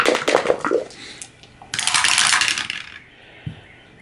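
Dice tumble down a dice tower during a board game, a burst of rapid clattering and rattling, then a pause, then a second dense rattling run and a small final knock, close and fairly loud.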